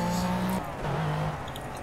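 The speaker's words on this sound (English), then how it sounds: "I should save that with an ample application of the handbrake." A car in the racing video game Project Cars skids under a hard handbrake pull, its steady engine drone holding loud and close with a faint tire hiss, the engine pitch dropping briefly midway.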